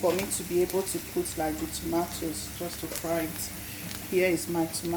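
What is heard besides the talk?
No distinct noise like a dog, phone or traffic.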